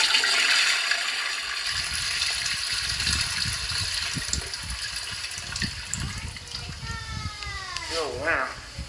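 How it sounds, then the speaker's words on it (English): An American Standard toilet flushes in a hotel bathroom at Taal Vista Hotel, with a rushing gush of water and a refill. A voice speaks over the flush. "This toilet. It's American standard. Flush it."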